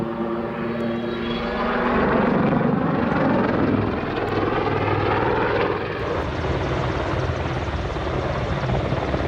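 A heavy-lift helicopter roars loudly and continuously nearby, with rotor chop and engine whine throughout, and no talking.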